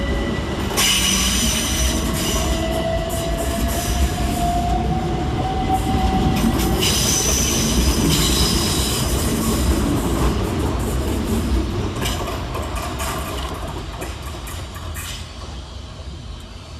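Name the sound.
Southeastern Class 375 trains departing London Waterloo East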